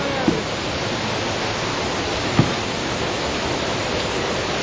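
A river rushing over a waterfall makes a dense, constant roar of water up close, steady and loud throughout, with a couple of brief soft knocks.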